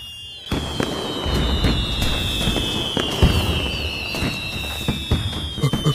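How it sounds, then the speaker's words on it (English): Fireworks burst and crackle nonstop in a cartoon firework show, with dense popping explosions and long whistling streaks overhead, loud and close with no talking. "it's too dangerous out here with all these fireworks flying everywhere"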